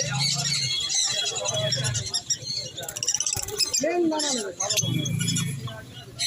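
Caged lovebirds at an outdoor pet market chirp in dense high twittering, near and continuous, mixed with market bustle and people talking throughout.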